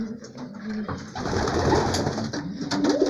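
Pigeons coo in a loft, several overlapping throaty, rolling calls rising and falling close by over a soft background rustle, with no speech.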